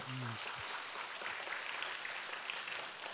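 Congregation at a Korean church service applauding in encouragement, a soft, steady patter of many hands heard from a distance after a brief voice at the start, continuing quietly to the end.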